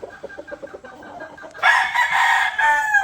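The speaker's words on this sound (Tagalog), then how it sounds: "Ganda manok, laki oh." A rooster in a feed trial clucks in a quick series of short low notes, then bursts into a loud, drawn-out crow that carries to the end, close to the listener.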